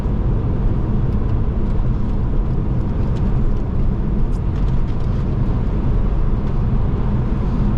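An Audi B5 S4 twin-turbo engine pulls hard under sustained acceleration, a loud, steady, dense roar with little variation, heard from inside the car without speech.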